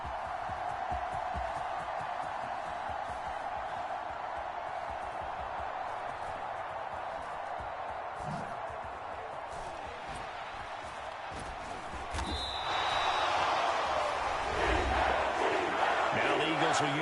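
A stadium crowd roars in a PS4 football video game, a steady wash of cheering that swells noticeably louder toward the end, with an announcer's voice running over it.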